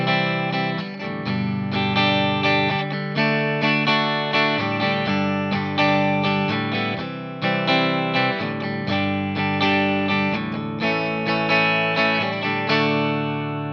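Electric guitar strums the bridge chords of a song, steady rhythmic strokes through a chorus-like effect, full and close with chord changes every bar or so and no voice over it.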